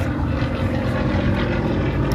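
A propeller-driven fighter aircraft, up to 7G capable and in 353rd Fighter Group markings, flies a roll-by at the Headcorn airshow in 2024, its loud, steady engine drone filling the air close by with no voices.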